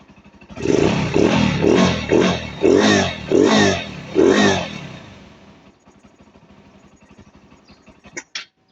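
A Honda NS160 motorcycle engine runs roughly in six pulsing surges, loud and near, then stalls and dies out, followed by faint clicks and a couple of sharp metallic knocks.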